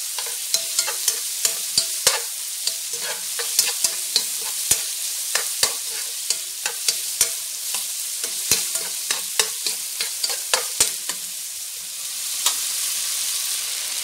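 Sliced onions fry in a pan for a lamb shoulder dish, giving a continuous close sizzle punctuated by many sharp, irregular clicks of a utensil against the pan.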